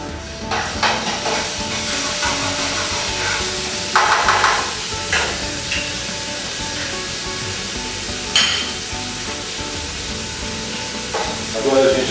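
Garlic frying in a generous pool of very hot olive oil for a Portuguese salt-cod dish, a steady close sizzle with stirring scrapes and a few louder clatters of utensil against pan.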